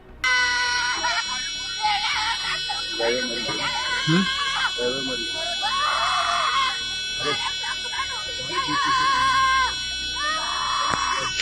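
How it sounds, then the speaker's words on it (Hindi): A woman screams and wails in distress after a bridge collapse in Gujarat, her cries rising in repeated loud bursts amid shouting voices and a horn-like tone, with people talking throughout. "जरा आप इस महिला की चित्कार सुनिए"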